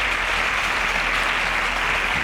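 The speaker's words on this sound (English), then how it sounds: "A round of applause for Chimdubem." Steady, dense applause from a studio audience at a Nigerian televised competition show, greeting a contestant who has advanced to the next round; the clapping is loud and continuous throughout with no talk.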